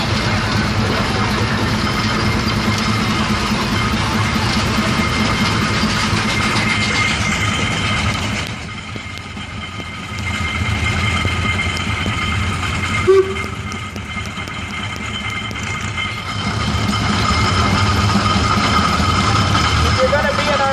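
A vintage Minneapolis steam traction engine, converted to a single smokestack, rolls past in a tractor parade with a steady loud mechanical chuffing rumble that dips briefly in the middle, under talking voices.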